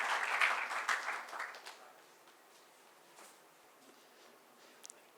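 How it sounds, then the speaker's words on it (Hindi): Audience applause welcoming a young speaker to the stage at a youth speech event, a burst of clapping that fades out within a couple of seconds, leaving quiet room tone. "उनका जोरदार तालियों के साथ स्वागत करें"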